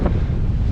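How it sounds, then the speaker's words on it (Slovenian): Strong wind gusting steadily around a sailboat riding at anchor in a sheltered spot near Honiara, Solomon Islands, gusts up to 30 knots; loud, continuous buffeting roar with no voices. "piha do 30 vozlo sunki"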